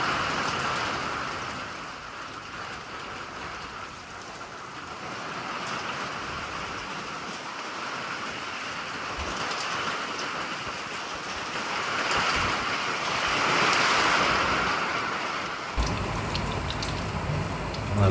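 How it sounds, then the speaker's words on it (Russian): Steady broadband rain falling and pattering on surfaces under strong wind, a continuous close hiss with gusty swells and no voices. "Ну, пока только дождик начался."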